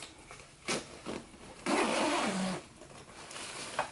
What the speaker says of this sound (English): That's a lot of fun to kind of unzip it and zip it back up.